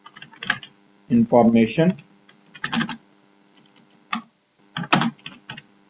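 Typing on a computer keyboard while formatting a document, with short bursts of key clicks scattered between stretches of someone speaking Hindi close to the microphone.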